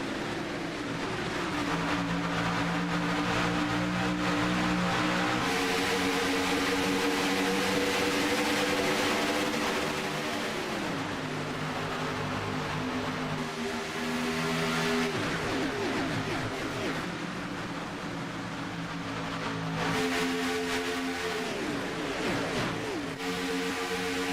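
Stock cars in an iRacing eNASCAR race at Daytona drone together in a continuous, loud engine roar, with pitch sweeps as the pack runs the opening lap.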